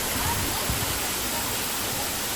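A waterfall gives off a constant, dense rushing hiss that fills the whole clip. The sound is close and steady, with no break and no voices.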